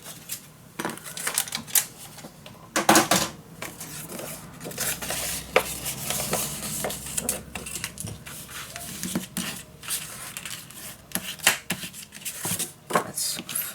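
Paper is cut down for a Strawberry Lane double scrapbook folio, giving irregular crisp snips, taps and rustles of moderate loudness, close by, with no voice.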